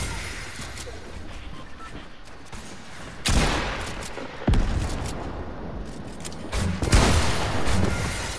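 Burst-rifle gunfire in a video game cracks out in a few sharp volleys, each a quick cluster of shots over a busy background, spaced a second or more apart.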